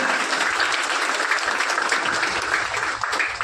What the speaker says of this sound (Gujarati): જોરદાર તાળીઓથી આપણે આ સન્માનને વધાવીએ